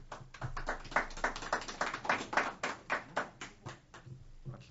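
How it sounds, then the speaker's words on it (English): Attendees at a Goffstown budget committee meeting break into brief applause. Scattered clapping from a small group fills the room, denser at first and then thinning into individual claps as it fades. "first time I think I've ever heard an applause at a budget committee meeting"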